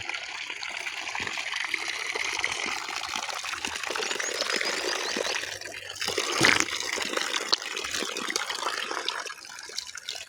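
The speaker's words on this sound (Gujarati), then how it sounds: "બોર ચાલુ છે એરંડમાં પાણી હેડે" Steady rushing water gushes from a borewell pump into a castor field, continuous with a broad hiss, loud and close, with a brief louder splash midway.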